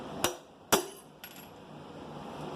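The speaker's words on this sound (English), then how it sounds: "Let's keep hammering it." Two sharp metallic hammer blows in quick succession on a seized part of a Honda D16Z6 engine, then a lighter strike, ringing over a steady background hum.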